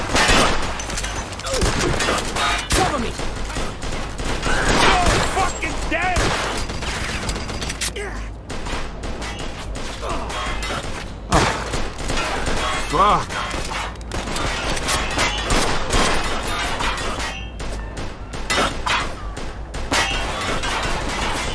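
Gunshots in the crime game Mafia II Definitive Edition, a running firefight of sharp cracks and bursts with clanking mechanical noises and breaking debris, loud and irregular across the whole stretch.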